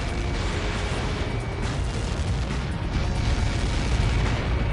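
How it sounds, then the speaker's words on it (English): Massive missile impact explosion in the Ace Combat 7 flight combat video game, a loud, continuous roaring blast rumble that fills the whole stretch with dense, sustained noise and no talk. "How many got caught in that explosion?"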